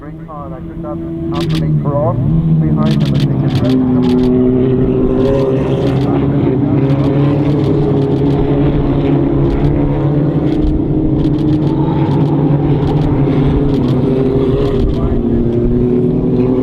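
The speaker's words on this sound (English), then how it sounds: "it looks like Polly is leading now as they come down towards me" Formula Vee race cars at Bishopscourt approach, their engines swelling from a distant buzz into a loud, sustained, overlapping harmonic drone as the pack nears.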